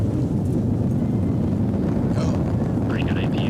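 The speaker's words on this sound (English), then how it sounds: "Liftoff. Americans return to space as Discovery clears the tower." Space Shuttle Discovery lifting off, its rocket engines giving a loud, steady, broadband roar that fills the whole stretch, with faint voices over it.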